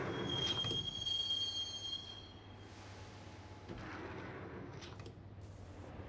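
A subway train in the Max Payne video game rides toward Roscoe Street Station, its wheels squealing high at first before settling into a steady low rumble with periodic clatter, no voices.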